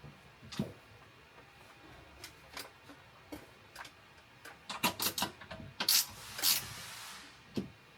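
A gear wrench ratchets as it tightens a bolt on a headliner shelf in a 2019 VS30 Sprinter van, producing sparse, quiet clicks that become a quicker cluster of sharp ticks partway through.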